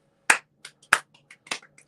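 A few sparse claps during a casual livestream trivia session, sharp isolated hand claps at uneven intervals with faint, quieter pats in between, near and alone against a quiet background.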